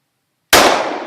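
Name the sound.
Glock 21 .45 ACP pistol gunshot at an old iPod Touch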